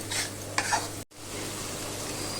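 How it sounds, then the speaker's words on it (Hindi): Masala for egg curry fries and gets stirred in a pan, a soft sizzle with a few scraping spoon strokes, then a brief drop before the frying hiss resumes. "ऑलमोस्ट 5 मिनट हो गए हैं मसाला भूनते भूनते"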